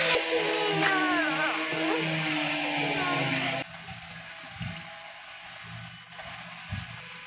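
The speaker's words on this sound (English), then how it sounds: "Sorry for the noise, my people. There's a construction going on." Construction work with power tools runs loud and steady for a few seconds with high whining, scraping noise, then cuts off abruptly, leaving quieter background sounds with a few low knocks.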